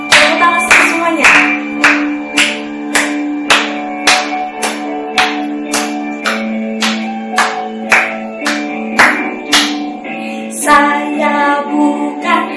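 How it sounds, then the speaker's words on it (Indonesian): Children at a Sunday school service clap along in a steady rhythm, sharp claps repeating about twice a second over sustained music, close and fairly loud throughout. "Tepuk tangan semuanya."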